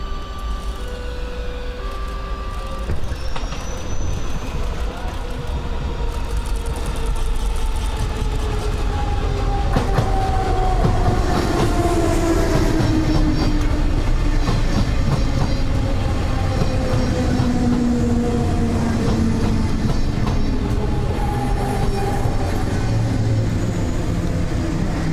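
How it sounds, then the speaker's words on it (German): A Berlin S-Bahn S47 electric train pulls into a station on the right-hand track, its motors whining in gliding, falling tones over a continuous rumble of wheels on rail, close and fairly loud, with no voices. "Auf dem rechten Gleis kommt die S47 von der Südringstrecke."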